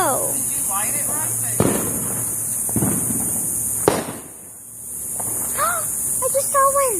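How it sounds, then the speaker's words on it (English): Fireworks go off in the sky outdoors at night, with a few sharp bangs spaced apart and crackling between them. Voices talk excitedly and whistle-like sounds rise near the end. "We're seeing some fireworks in the sky."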